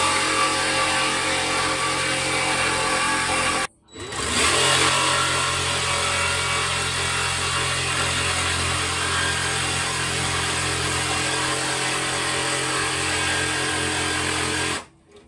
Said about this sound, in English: I'll get the jigsaw, just whip that out